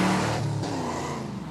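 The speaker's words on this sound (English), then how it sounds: "you can actually hear a shift where the engine dies off there when the driver, it was probably Alan there, stepped on the clutch and shifted to the next gear" Pontiac Trans Am in a movie scene, its engine note dropping away as the clutch goes in for a gear change, then droning on at a lower pitch, close and fairly loud.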